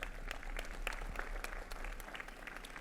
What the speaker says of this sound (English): a round of applause for Mr. Ramirez.